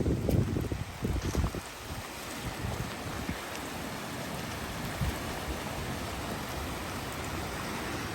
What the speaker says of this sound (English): it's called a downpour